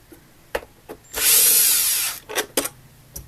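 A power drill runs in one sustained burst of about a second, backing out screws from the housing of a DRB III scan tool keypad, with sharp clicks and handling knocks before and after.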